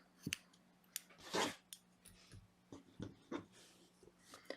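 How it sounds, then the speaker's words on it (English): Scissors snip a yarn tail on a crocheted checkerboard bag, a few quiet close-up cuts and clicks spread across a short, otherwise hushed moment with no talking. "And then trim a tail."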